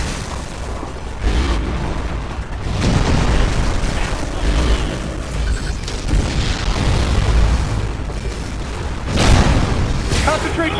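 Missile blasts and booming explosions from the Wii game Metroid Other M roll on almost without a break, loud and dense, with deep rumbling bursts throughout, and game voices talk over the blasts.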